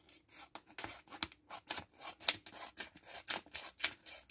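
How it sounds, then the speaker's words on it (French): Scissors snip through a paper sheet, trimming the overhanging edge of a Christmas placemat in a series of quick, close, crisp cuts with soft rustling between them. "Ce que je vais faire, c'est que je vais couper ce qui dépasse."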